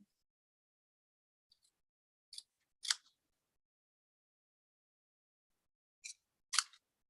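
Scissors trimming excess paper from a papercraft piece, heard as a few crisp snips in two short bursts separated by a pause, close and quiet with no talk.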